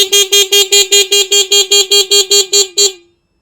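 A Pidzoom FH60 finger horn's motion-sensor alarm blares a rapid run of about twelve identical loud, tonal electronic beeps in an even pulse, close up, then stops abruptly into silence.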